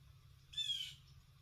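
A whiny bird calls once just outside, a short, bright, slightly wavering squawk of about half a second, fairly clear against a low steady hum and otherwise quiet surroundings.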